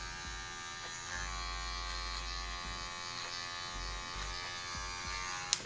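Electric hair clippers fitted with a half guard buzz steadily through a barber's fade haircut, a close, continuous hum with short dips as the blades lift off the hair and a sharp click at the end.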